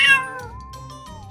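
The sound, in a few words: cat meowing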